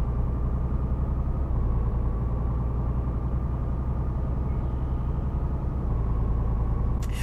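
A Scania truck engine in The Road Driver driving game rumbles steadily as it accelerates, with a deep, continuous drone and no talking.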